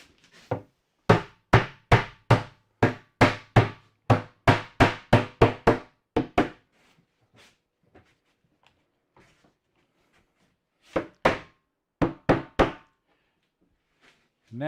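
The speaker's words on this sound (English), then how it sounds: "Use the rubber mallet for this part." Rubber mallet tapping melamine cabinet parts together during cabinet assembly: a rapid series of about fifteen close, dull knocks, then a pause, then a few more blows, alone and without talk.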